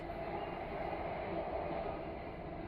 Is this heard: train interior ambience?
yes